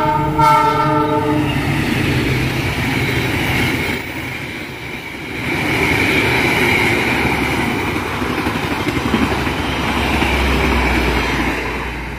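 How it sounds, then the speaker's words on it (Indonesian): Argo Bromo Anggrek express train from Surabaya to Gambir passing Brumbung station: a horn sounds at the start, then a loud, sustained roar and rumble of the train rolling by close, continuing throughout with no talk. "yang akan melintas stasiun Berumbung ini adalah Argo Bromo Anggrek dari Surabaya, tujuan akhir Gambir"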